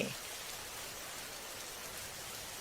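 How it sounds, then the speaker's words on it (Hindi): Steady rainfall, a soft, even hiss of drops with no other sounds, fairly faint. "इस बारिश का पानी तो कितना ठंडा है"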